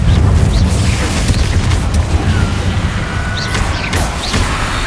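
The Confringo explosion spell blasting in Hogwarts Legacy: a loud, close booming burst with rumbling crashes and debris that stays dense and heavy for the whole moment, with no voice over it.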